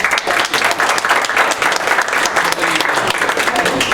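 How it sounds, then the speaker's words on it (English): A room full of people at a mental health coalition meeting breaks into loud, steady applause that lasts several seconds. A few voices can be heard faintly under the clapping. "Big round of applause, okay?"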